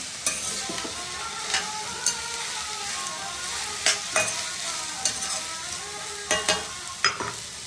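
Sliced onion sizzling in hot tempering oil in a pan, with a constant frying hiss and regular scraping clicks of a stirring spoon, close up and alone.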